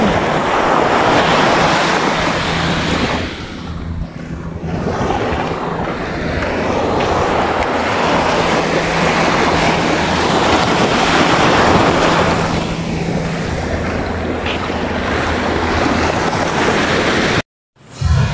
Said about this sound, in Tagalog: Dito na tayo sa tabing dagat